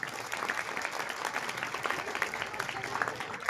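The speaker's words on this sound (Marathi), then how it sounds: "टाळ्या वाजवा जरा त्याच्यासाठी एकदा." An audience claps for a student at a school ceremony honouring SSC and HSC students, a fairly soft, continuous patter of applause from a crowd without a clear peak.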